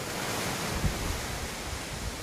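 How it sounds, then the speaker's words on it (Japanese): Ocean waves wash against the shore below a high coastal lookout on Ainoshima island, Japan, a steady broadband surf roar with wind buffeting the microphone and no distinct individual breaks. "波の音。"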